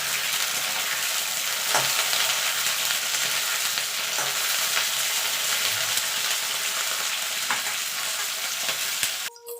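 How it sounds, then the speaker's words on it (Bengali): Potatoes and cauliflower frying in a pan give a steady, close sizzle with faint stirring scrapes, running unbroken and fairly loud until a brief clatter near the end. "এবার আলু আর ফুলকপিটা একটু ভাজা ভাজা করে নেব।"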